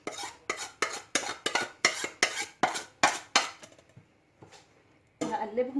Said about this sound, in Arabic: هخلط كل التوابل مع بعض